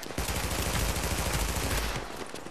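Rapid automatic turret fire in The Division video game, a loud dense burst of shots rattling close and continuously for about two seconds before easing off.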